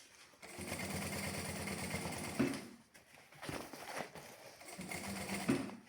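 Sewing machine stitching fabric in bursts: a fast rattling run of needle strokes, a pause, a short run, then another long run, each close and steady with small clicks as it stops.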